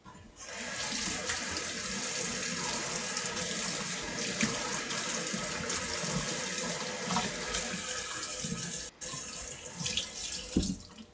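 Tap water runs steadily into a sink while it is washed with soap, a continuous close splashing stream with small clatters near the end.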